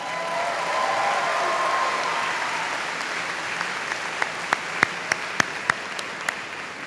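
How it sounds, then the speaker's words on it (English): Audience at a Monroe High School 2018 graduation ceremony applauds in a broad, even wash of clapping that thins out into a few loud, scattered individual claps near the end. "Would you give her another round of applause?"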